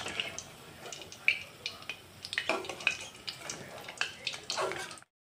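Potato chops frying in hot oil, a soft, close crackle and sizzle with scattered pops and stirring sounds, fairly faint, ending abruptly.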